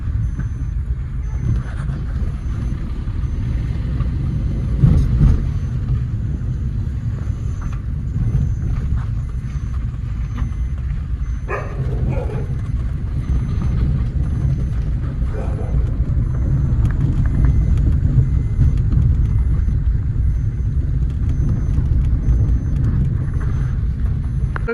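Engine of a Suzuki Baleno with a gearbox complaint on downshifts from third gear, heard as a steady low drone from inside the car with faint rises and shifts in pitch as gears change, continuous throughout.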